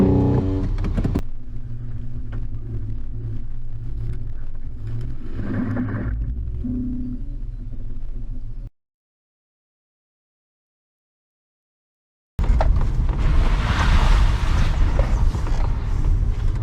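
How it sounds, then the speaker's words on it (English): A 4WD engine rumbles while driving through puddles on a forest trail, with water splashing around it, then a brief silence before a louder surge of sloshing water and engine noise. "It's just so satisfying driving through puddles."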